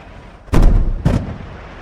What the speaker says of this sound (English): So cue the fireworks.